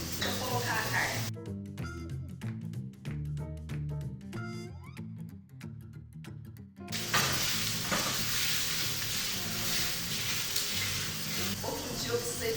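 Meat sizzles and fries in a hot pan, a steady loud crackling hiss that continues throughout with a brief quieter stretch, while someone talks over it.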